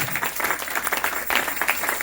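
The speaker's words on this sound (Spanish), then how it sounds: "denle fuertes aplausos al Señor" A church congregation claps for the Lord during a worship service, a soft, uneven patter of hands with scattered sharper claps, heard at moderate distance.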